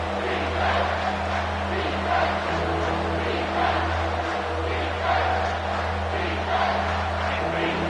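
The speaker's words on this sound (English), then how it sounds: "This crowd knows this defense needs them right now." Crowd roaring at a Penn State versus Ohio State football game, a dense sustained stadium din with swelling waves of shouting and a low steady hum underneath.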